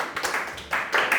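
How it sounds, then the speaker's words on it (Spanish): Brief applause from a church congregation honoring Jesus, a short burst of clapping rising and falling over about a second, moderately loud and slightly uneven. "Denle un fuerte aplauso a Jesús porque Él es bueno"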